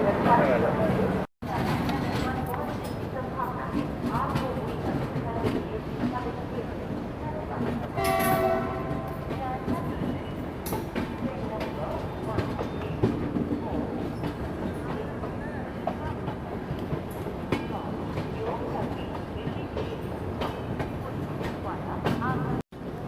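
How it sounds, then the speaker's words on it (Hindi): The Golden Temple Mail running on track out of Ghaziabad, a steady close rumble of rolling coaches with a horn or whistle sounding briefly, under a voice that talks throughout. "गाजियाबाद से डिपार्चर तो ट्रेन का हो चुका है"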